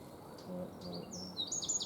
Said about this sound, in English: You can hear the wren stutting now.